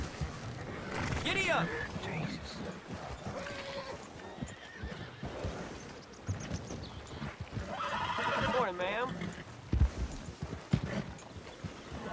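Horses whinny and snort amid clopping hooves in the video game Red Dead Redemption 2, with voices talking over the scene.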